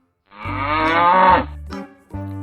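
Buffalo mooing, a long deep bellowing moo followed by two shorter grunting calls, close and clear with nothing else underneath.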